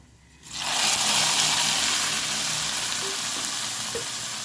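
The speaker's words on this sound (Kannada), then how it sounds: "ಈ ಒಗ್ಗರಣೆಯನ್ನು ಹಾಕ್ಕೊಳ್ತೇನೆ" A hot tempering of mustard seeds, garlic and dry chilli in oil is poured into raw banana sambar, bursting into a sudden loud, close sizzle that settles into a steady, dense hiss.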